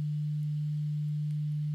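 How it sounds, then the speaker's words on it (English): A guitar distortion effect programmed on a Sigma DSP ADAU1452 gives a steady, unchanging buzzy low tone that holds without a break at even loudness. "See this nearly perfect square wave."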